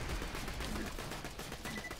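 Dense, rapid gunfire in Borderlands 2, a continuous rattling stream of shots lasting about two seconds, moderately loud with no pauses.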